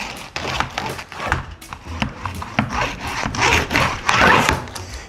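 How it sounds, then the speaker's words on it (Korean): Close scraping and rubbing of insect screen mesh being pressed by hand into a window screen frame, with uneven rhythmic scratchy strokes and no talking. "한 부분도 손으로 조금 눌려주시고 방충망을 꼭 넣어주시기 바랍니다."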